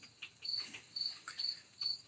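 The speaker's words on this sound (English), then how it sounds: "It goes so well with the crickets in the background." Crickets chirp in a background night chorus, thin high trills pulsing in short regular bursts about twice a second, faint and alone without any voices.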